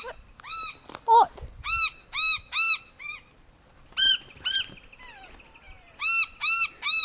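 Small birds call near a chicken pen, bursts of sharp, loud, harmonic chirps repeated in clusters with short gaps, close by; a brief low voice is heard near the start.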